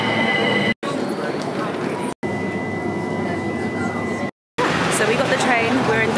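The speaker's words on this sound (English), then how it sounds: "So we got the train, we're in Dalston, Kingsland now." A London passenger train rides near Dalston Kingsland, its loud rumbling carriage noise and squealing wheels broken by a few brief gaps, with some talk over it.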